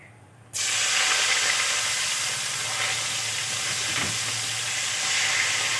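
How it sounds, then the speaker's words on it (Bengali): Chopped onions drop into hot oil with whole cumin and burst into a dense, loud, continuous hiss that holds steady for several seconds, close up and without talk. "এখন আমি কেটে রাখা পেঁয়াজগুলো দিয়ে দেব।"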